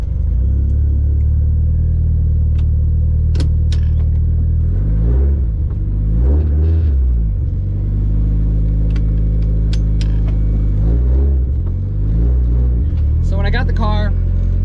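A stock 1983 Toyota Corolla engine drones steadily while driving, a loud low rumble heard from inside the car with several rises and falls in revs.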